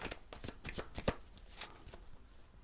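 Tarot cards are shuffled by hand before one more is drawn, a quiet run of crisp riffling flicks and soft slaps, close and faint, with one sharper snap midway and no talking.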